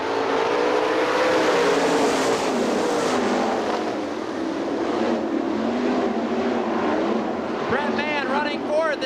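410 winged sprint cars race around Hartford Speedway dirt oval in Michigan, a dense continuous engine roar from a pack of cars that swells and fades slightly, with talk over it.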